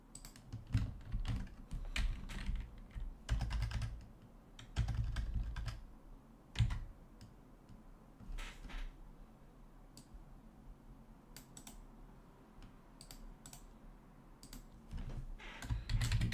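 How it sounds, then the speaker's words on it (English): Typing on a computer keyboard, close bursts of rapid key clicks with heavier thumps, pausing and resuming in uneven stretches over a low background hum. "I don't want to type this again."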